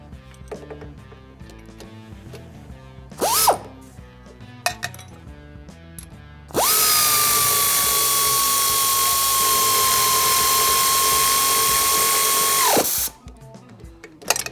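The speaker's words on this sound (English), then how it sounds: "I'm going to go ahead and use my air tool to tighten it down." A pneumatic air tool tightens an exhaust pipe nut on a Harley-Davidson Sportster, a loud steady whirring burst of about six seconds, framed by quieter clinks and handling noises in a workshop.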